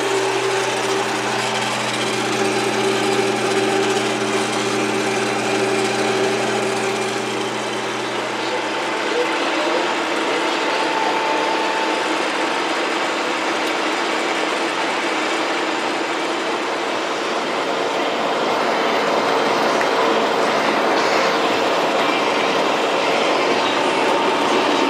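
John Deere 6120E tractor mowing grass on a farm, a loud continuous engine and mower drone with a droning tonal hum early on that fades, steady and close throughout.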